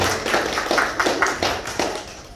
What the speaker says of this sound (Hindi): तो इसके लिए तालियां होनी चाहिए अरसलान भाई को